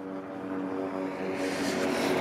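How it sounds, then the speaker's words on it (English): A helicopter flies overhead above Fallsview Boulevard in Niagara Falls, Ontario, giving a steady, fairly loud engine and rotor drone with a low humming tone that swells slightly toward the end, with no talking. "It's a helicopter."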